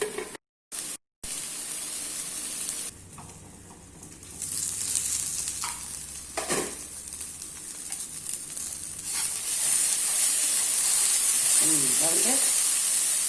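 Okra stir-fry cooks in a pan as chilli powder is added, giving a soft hiss with occasional scraping stir strokes, then a louder, brighter sizzle in the last few seconds.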